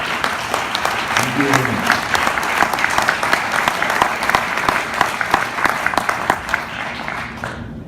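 Loud, sustained audience applause at a medical association presidential address fills the full stretch, dense and steady with individual claps standing out; a voice briefly speaks over it early on.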